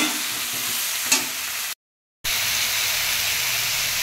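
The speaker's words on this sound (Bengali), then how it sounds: "এবার আমি ভালো করে কষিয়ে নেব।" Potatoes fry with spices in a pan, a dense close sizzle with a spoon scrape near the start, then a short dropout before the frying hiss resumes steadily, with no talking.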